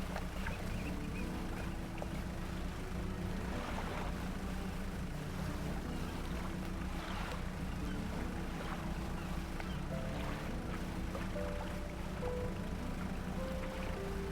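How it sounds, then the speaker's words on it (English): Engine hum of a fast-moving boat in a fishing video game, a steady droning tone with layered harmonics and faint water wash, continuous and fairly quiet throughout with no talk. "Man, this boat really moves fast when you've got double the original speed."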